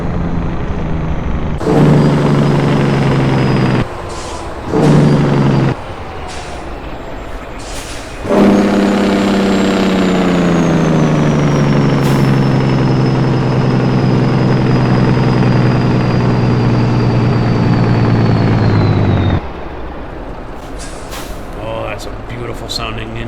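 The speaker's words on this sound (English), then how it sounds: "Beautiful sounding engine brake right there." A truck engine brake in American Truck Simulator on a Classic XL truck, a loud sustained droning rumble that cuts out and restarts twice, then holds steady for about ten seconds before dropping away.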